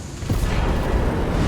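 Deep rumbling boom of an explosion in a video game, loud and sustained with heavy low-end roar filling the whole moment, no voices over it.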